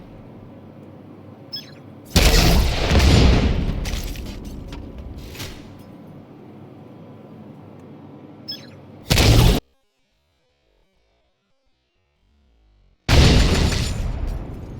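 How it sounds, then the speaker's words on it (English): Artillery turret blasts in a video game, a long rumbling explosion followed by two more sudden booms separated by a stretch of near silence, loud and close. "And that was the artillery turret."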